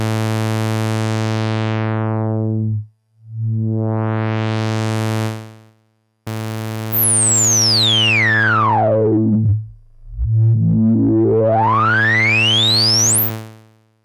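A buzzy synth tone on an IK Multimedia UNO Synth Pro X is swept by a four-pole filter that closes and reopens, first smoothly, then with half resonance giving a sharp whistle gliding down and back up.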